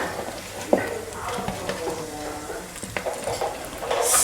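Onions go into hot oil in a pot and crackle with a soft, uneven sizzle, broken by scattered stirring scrapes and small clanks, growing slightly louder toward the end.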